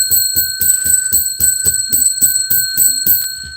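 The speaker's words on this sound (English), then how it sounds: "Let's ring the bell." A small bell rung repeatedly during a live stream, about a dozen bright, evenly spaced metallic dings in quick rhythm, close and loud, with nothing else heard.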